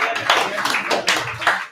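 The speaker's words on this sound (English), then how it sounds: "let's give a more round of applause for our next comedian" Open-mic comedy crowd claps for a comedian in short uneven bursts of hand claps, fairly close, with a host talking over the applause.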